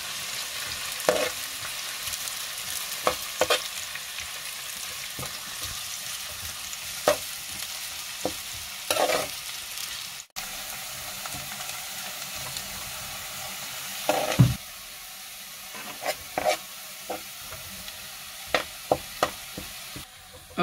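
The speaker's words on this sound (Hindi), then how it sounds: "प्याज को अच्छी तरह हम लाल करेंगे।" Chopped onions fry and sizzle in a pan while being cooked for Maggi noodles, with a steady low sizzle and scattered scrapes and clinks from stirring, quiet and close, with no voices.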